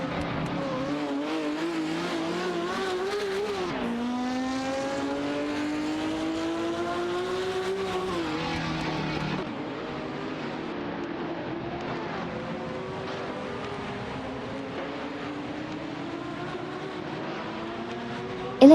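Race cars, including a Lola 70E and a Porsche 971, roar through an AI racing game, engines whining up and down through gear changes, loud and continuous across the whole stretch.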